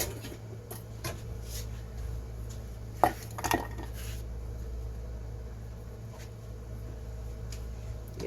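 Kitchen dishes knocking as a bowl is fetched, a few sharp clinks and a brief clatter around the middle, then quiet with light ticks over a low steady hum.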